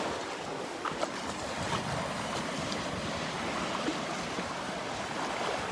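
Gulf waves wash over a sandbar at Delnor-Wiggins beach on a summer morning, a steady hiss of surf and moving water with soft swells, continuous and fairly quiet, no talking.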